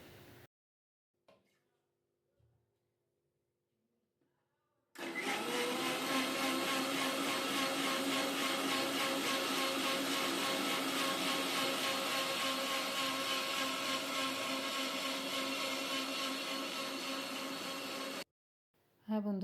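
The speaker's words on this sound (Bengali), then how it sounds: "দেখতে পাচ্ছেন আমার আঙ্গুরের জুসটাও ব্লেন্ড করা হয়ে গিয়েছে" An electric kitchen blender whirs loudly and steadily for about thirteen seconds, blending grapes with water, salt and a spoon of sugar into juice, then stops abruptly; near silence with faint handling noises comes before it starts.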